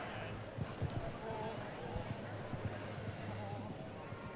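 A show jumping horse canters over a grand prix course in Canada, its hooves thudding in a quick, rhythmic clip-clop under a bed of arena noise and indistinct voices.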